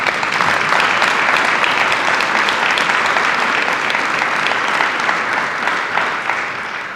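A round of applause for an inductee at a high school athletic hall of fame ceremony, loud sustained clapping from a large crowd that continues evenly throughout, with no talking.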